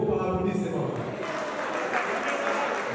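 Crowd applause at a civil wedding ceremony: a dense, steady wash of clapping from many hands that holds at an even level for the whole stretch, with a voice briefly audible early on.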